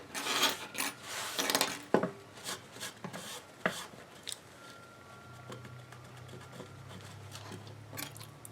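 Etching gel is scraped off a glass tumbler in a string of short, irregular scratching and rasping strokes, close and fairly quiet, thinning out toward the end.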